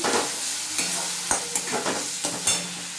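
Spice paste frying in oil for a pea lentil dhoka curry, a bright continuous sizzle broken by repeated scraping stirs of a spatula, close and fairly loud.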